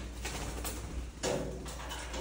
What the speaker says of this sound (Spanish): Miren pues, que allá está la salida y el pájaro no se sale.